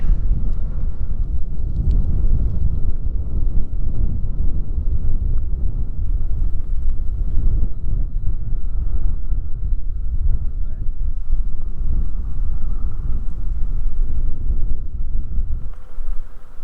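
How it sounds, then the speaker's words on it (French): Loud, constant headwind buffets the microphone while cycling on an open road, a deep, rumbling roar, unbroken for the whole stretch and dominated by low-frequency gusts. "Alors cette fois, c'est vraiment le vent de face et on n'a rien pour nous protéger."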